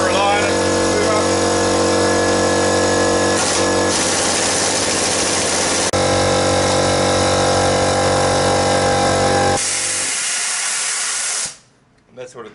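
A shop air compressor runs steadily and loud, a dense mechanical hiss and hum that holds for about ten seconds before cutting out, leaving a brief quiet tail.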